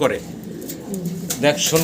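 Pigeons on a pigeon farm coo softly in low, murmuring calls close by, with faint rustling around them.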